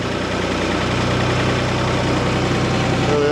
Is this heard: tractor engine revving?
yes